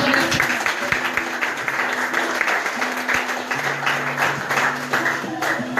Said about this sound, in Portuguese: E as palmas louvem ao Senhor.